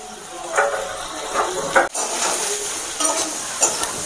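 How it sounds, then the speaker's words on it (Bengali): Potato and pumpkin curry stirred in a pan with a utensil, several distinct scraping and clinking strokes over a steady gentle sizzle, close and clear, no talking. "এবার সুন্দর করে নাড়িয়ে চাড়িয়ে নেব"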